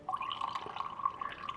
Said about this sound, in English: we're going to do a higher pour but a slower pour